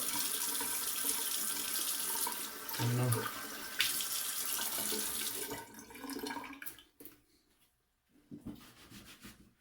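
Cold tap water runs into a sink for rinsing after a straight razor shave, a loud steady splashing that breaks up into gurgles and drips as the flow is cut, with a brief mumbled remark.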